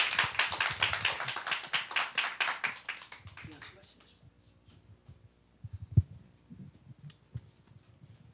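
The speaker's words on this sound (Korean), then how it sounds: "우리 박수로 환영하겠습니다" A church congregation claps to welcome a visiting missionary preacher. Dense, fairly loud applause runs for about three seconds, then fades into near silence with a few faint scattered taps and a soft voice.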